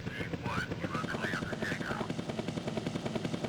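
Helicopter engine and rotor noise from the video game Crusader: No Remorse, a steady loud pulsing drone with rapid rhythmic chopping throughout, with faint voice-like tones mixed in.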